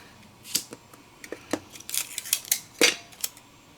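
Scissors snip out a filigree paper card piece in a string of quick, close, crisp cuts with small clicks between them, louder toward the end.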